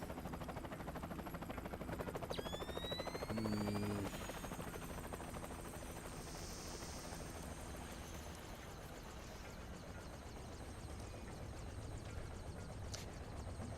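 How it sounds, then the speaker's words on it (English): A helicopter in Splinter Cell: Chaos Theory drones with a steady, fairly faint rotor thrum that holds for the whole stretch, with a brief louder swell early on and no talking. "Helicopter going for crying out loud."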